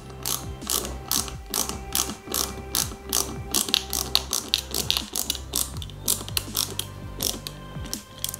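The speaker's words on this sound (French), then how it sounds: "Et on va mettre la deuxième vis." A screwdriver ratchets as two screws are driven into the hand of a Robocop cyborg model kit, with rapid repeated clicking bursts in an even rhythm, close and clear.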